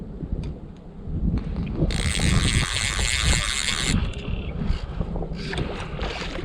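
Fishing reel drag ratcheting in a steady buzzing run for about two seconds as a hooked 16 to 18 inch fish pulls line on small flies, set against rushing stream water, loud and close.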